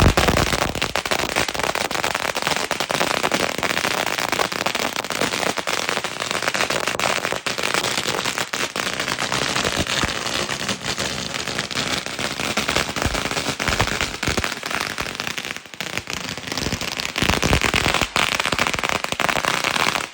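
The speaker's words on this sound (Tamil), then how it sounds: "அதனால அப்புறம் 2000 வாழை அன்றைக்கி காலையில் வெடித்தோம்." A long string of 2000 firecrackers bursting for Diwali, a dense, continuous crackle of rapid pops lasting throughout, loud and steady with no pauses.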